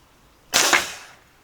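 A revolver blowgun cane fires a broadhead dart in one sharp, loud puff of air that fades quickly, heard alone.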